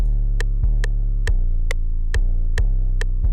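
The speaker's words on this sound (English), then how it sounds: "Then I added the 808. In this case it's just a normal 808." A deep, booming 808 bass sustains under a beat, with crisp percussive ticks landing at a steady rhythm and the low tone restarting every couple of beats.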